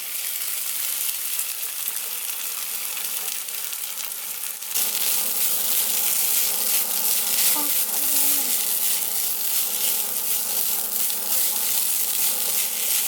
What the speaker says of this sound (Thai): แล้วเราก็จะใส่ข้าวลงไปผัดนะคะ ข้าวที่เราคลุกเมื่อกี้เอาลงไปผัด